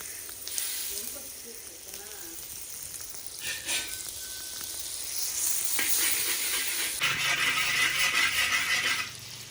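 Butter sizzling in a pan while making burnt chicken fried rice, a soft steady hiss with a few brief clinks and scrapes, growing louder and brighter in the second half.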